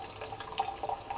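Water poured into a pot over spruce tips outdoors, a soft trickling splash that stays faint and steady for about a second, with no voices.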